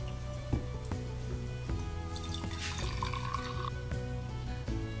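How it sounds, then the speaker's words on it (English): Hot water poured into a cup with grated ginger, a soft trickling and dripping with faint clinks, close and quiet, no talking. "add hot water"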